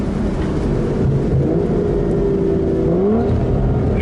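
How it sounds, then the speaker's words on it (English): A V12 Aston Martin Vanquish Volante with the sport exhaust setting engaged gives a steady, loud engine drone whose tone rises gradually, heard close with no talk over it. "Sport button engage means you get all the extra exhaust note"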